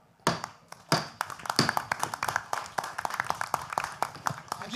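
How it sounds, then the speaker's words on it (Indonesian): Audience clapping at the close of a mock trial, scattered individual claps building into a quick uneven round of applause from a modest group, fairly close. "Ini tepuk tangannya boleh."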